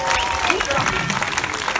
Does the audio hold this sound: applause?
yes